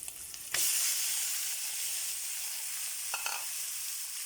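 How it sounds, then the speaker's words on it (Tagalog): Pork meat lands in a hot pan with a sudden sizzle that keeps going as a steady, fairly soft hiss, and a short stirring scrape comes later; nobody talks. "Ilalagay din po natin yung ating karne."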